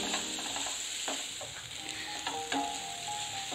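Tomatoes sauté in a pan for parotta salna, a continuous moderate sizzle with a few light stirring scrapes and clicks throughout, no voices.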